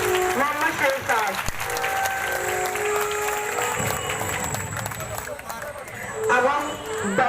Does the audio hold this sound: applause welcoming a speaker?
yes